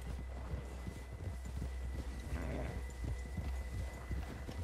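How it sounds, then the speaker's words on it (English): Horse hooves clopping at a slow walk in the video game Red Dead Redemption 2, soft rhythmic steps over a low wind-like ambient bed, with no voices. "Oh, look at the horse being all sneaky."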